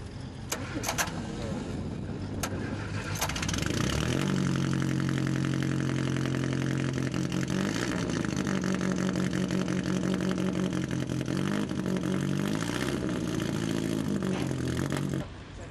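Vintage race car in a race paddock at the 1994 Collier Cup, cranking briefly and then catching into a loud, rough, steady idle that carries on close by until it cuts off near the end.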